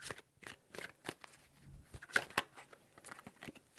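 Tarot cards being shuffled by hand in a few quick bursts of riffling and sliding, close and fairly quiet with brief pauses between.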